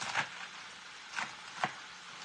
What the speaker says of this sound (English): I'm just going to chop all this up